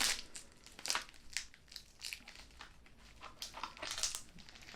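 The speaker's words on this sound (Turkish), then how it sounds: "Şimdi bayağı bir köpüğe salmışlar Bunu nasıl açacağız acaba? Makasla keseceğiz açacağız." Scissors cut through packaging foam in a DJI Neo drone box, giving a faint, close run of crunching, crinkling and squeaking snips in irregular bursts, with no voices.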